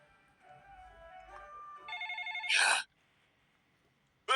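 A telephone rings with a bright electronic ringtone, a rising chirping phrase that stops and then starts again briefly near the end, close and clear, with no speech.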